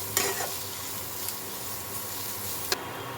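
Fish ball mixture being mixed in a pan for a fish ball recipe, a steady close scraping and stirring texture with a faint sizzle underneath and a few brief sharper clinks.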